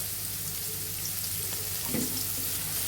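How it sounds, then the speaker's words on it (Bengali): Chopped onion with crushed garlic and ginger frying in a pan, giving a steady close sizzle with a brief stir or bubbling burst near the middle. "একটু ভাজা ভাজা করে নিব।"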